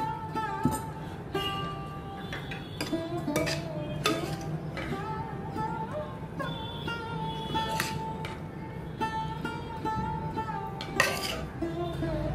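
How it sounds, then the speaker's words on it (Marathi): Cooked snake gourd and val bean vegetable dish with coconut being spooned from a pan onto a serving plate, close repeated clinks and scrapes of a spoon against metal cookware in an irregular rhythm, no talking. "आता मी ही सर्विंग प्लेटमध्ये काढून घेते."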